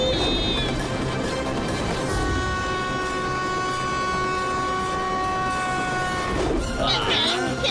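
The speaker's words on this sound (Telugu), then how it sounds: "ఎదురుగా ఇంకొక ట్రైన్ వస్తుంది." A cartoon train approaches on the track, its horn blaring in a long sustained tone over a constant rumble, with excited voices breaking in near the end.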